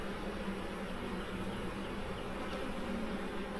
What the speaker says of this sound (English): this is where all your guard bees are at, so they're gonna be a little more aggressive down here